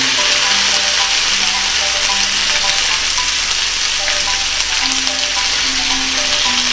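Shrimp for honey shrimp with broccoli sizzle steadily in a hot pan, a dense, loud, continuous frying hiss without talk.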